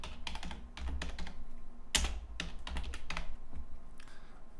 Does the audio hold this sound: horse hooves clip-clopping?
no